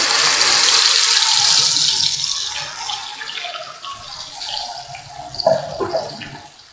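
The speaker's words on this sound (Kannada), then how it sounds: "ರುಬ್ಬಿರೋ ಅಂಥ ಈ ಚಟ್ನಿನ ಇದರೊಳಗಡೆ ಹಾಕೊಳ್ತಾ ಇದ್ದೀನಿ" Ground tomato chutney poured into hot fried garlic in a pan gives a loud, hissing sizzle that fades after about two seconds into a softer crackle with a few sharp spatters near the end.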